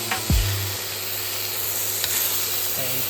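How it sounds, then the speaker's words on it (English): Steady sizzling hiss of food frying in a pan, continuous and fairly loud, with a brief low knock near the start. "We got this kind of a golden brown sizzling over there"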